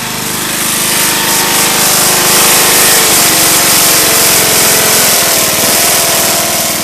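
Old engine idling loudly after a cold start, a steady rough mechanical drone with a fast rattling pulse that holds constant and close with no voices.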